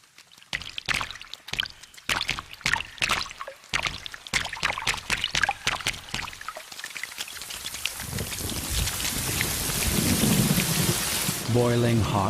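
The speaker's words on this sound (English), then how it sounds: "The first rain." Heavy rain pours down during a thunderstorm, with scattered drops building into a dense, steady downpour while rumbles of thunder roll beneath it.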